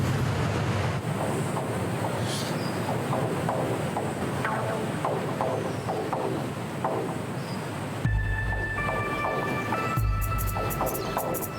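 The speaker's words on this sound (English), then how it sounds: "The third day of southeasterly blowing strong." A strong southeasterly wind blows steadily on the coast, roaring in loud gusts against the microphone with surf rumbling underneath, then cutting to a different windy scene toward the end.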